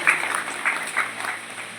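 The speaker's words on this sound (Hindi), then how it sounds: "आप उनका भी तालियों के साथ" An audience claps to welcome guests at a sewing camp in Rattakhera, a short spell of scattered applause with gentle swells and no talk over it.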